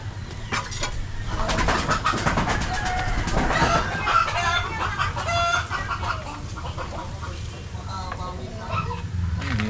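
Two hens cluck and murmur at a homemade nesting box, close by and moderately loud, with a person talking over them throughout.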